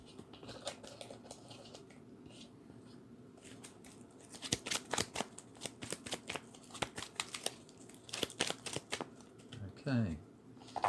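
Playing cards being shuffled during a tabletop wargame session, a run of quick crisp riffling clicks and a flutter near the end, close by over a low room hum with people talking in the background.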